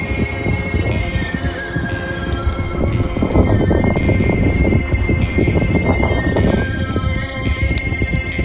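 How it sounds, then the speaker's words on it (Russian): A herd of horses runs across open ground in Mongolia, a dense, continuous rumble of hoofbeats with occasional whinnies, loud and close. "Неожиданно на другой стороне протоки появился табун лошадей."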